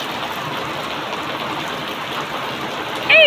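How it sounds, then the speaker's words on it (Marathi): Heavy, wind-driven rain pours down in a steady, dense hiss with no letup, and a brief high whistle rises over it right at the end. "वारं पण आहे त्याच्यात पाऊस आहे जोरात."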